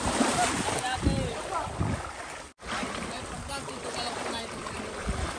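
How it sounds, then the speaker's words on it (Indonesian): Sea waves and current wash around a boat off Derawan where whale sharks are watched, a steady broadband rush with wind buffeting the microphone, continuous throughout with a brief dropout midway. "Ombaknya, arusnya itu."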